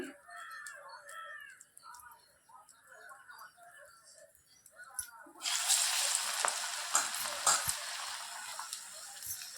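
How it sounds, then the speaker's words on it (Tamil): Karamani vadai batter drops into hot oil in a kadai, and a loud, close, crackling sizzle bursts up and continues after a quieter opening in which crows caw in the background. "கடாயில் எண்ணெய் காஞ்சிடுச்சு இப்போ காராமணி வடையை போட்டு எடுத்துடலாம்"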